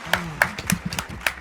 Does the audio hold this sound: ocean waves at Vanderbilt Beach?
no